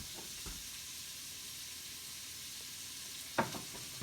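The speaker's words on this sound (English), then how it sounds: "Get that stirring in that bacon grease." Black-eyed peas made from dried beans sizzle steadily in bacon grease in an Instant Pot while being stirred, a constant close frying hiss broken by one sharp utensil clink near the end.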